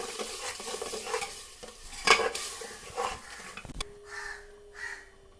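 Tomato, ginger and garlic paste is stirred in a pan, a scraping, sizzling stir with one sharp utensil clank midway, followed by quieter rhythmic scraping; no talking.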